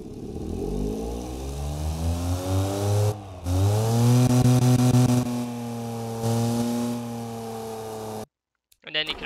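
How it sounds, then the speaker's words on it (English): Custom-exhausted car engine in the Automation car-building game, its muffler set to reverse flow, revving up and down in rising and falling harmonic sweeps, loud and close, with a short gap midway before cutting off. "Let's do a reverse flow on the first side of the muffler, and on the second, that affects noise as well."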